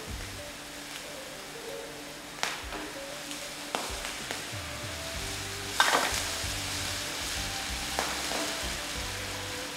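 Liver fries in a pan with sugar and seasoning for a Vietnamese dish, a steady close crackling sizzle punctuated by several sharp clacks of a utensil stirring against the pan, with no talk.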